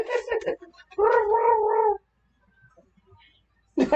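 A cat gives a long, drawn-out meow up close, preceded by shorter vocal sounds, then quiet before another sound begins.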